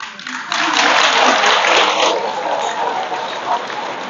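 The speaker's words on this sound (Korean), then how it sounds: "박수를 신나게 이렇게 치는 사람도 있고" A temple congregation at a Buddhist dharma talk claps in a burst of applause that swells, holds for a couple of seconds, then thins, with a voice speaking over it.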